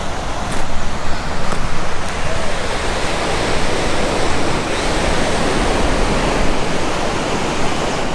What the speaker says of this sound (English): Look at the way the waves were coming in.